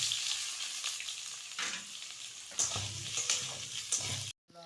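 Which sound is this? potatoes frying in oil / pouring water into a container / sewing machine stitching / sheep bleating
potatoes frying in oil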